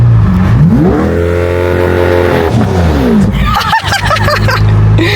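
A Lamborghini Aventador LP-700 engine revs up sharply and holds a loud roar, then the pitch drops and rises again in quick bursts, very close.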